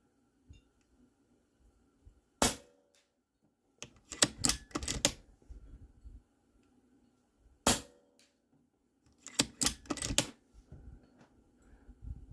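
A DAR GEN-3 .22 PCP air rifle firing outdoors, two sharp close cracks spaced several seconds apart, each followed by clattering mechanical clicks of cycling and handling, over otherwise quiet surroundings.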